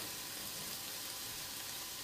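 Bacon and chicken fry in a pan with a faint, even, continuous sizzle and no distinct stirring strokes, quiet and without speech.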